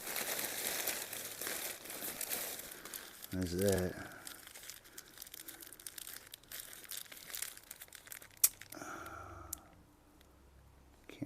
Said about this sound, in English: Mostly it's plastic bags.